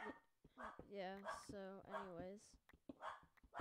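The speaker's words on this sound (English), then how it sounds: "That was my dog." A pet dog barking loudly and repeatedly at close range in quick yelping bursts, with a person talking between and over the barks.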